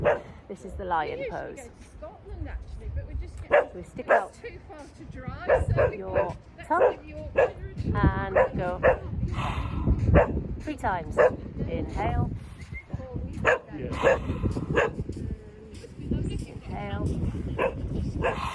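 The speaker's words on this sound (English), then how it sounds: "Sorry about the dogs." Dogs bark and yip repeatedly in the background of a home yoga session, sharp bursts scattered through the clip under an instructor's continuous talking.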